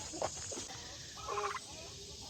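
Chickens calling nearby, a couple of short gobbling, clucking bursts over faint background hiss.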